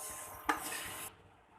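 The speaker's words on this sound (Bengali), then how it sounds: "মুগ ডালটিকে প্রথমে ভালোভাবে ভেজে নিতে হয়, আর এটা কিন্তু শুকনা কড়াইতেই ভেজে নিতে হবে, কোনো প্রকার তেল ব্যবহার করা যাবে না" Mung dal is dry-roasted in a dry karahi without oil. A single quiet scrape of a utensil stirring the lentils across the pan lasts about half a second, then fades to near silence.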